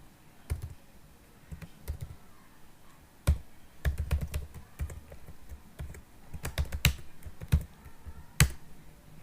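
Computer keyboard typing while coding in Python, irregular bursts of crisp clicking keystrokes, close and fairly quiet, with no talk.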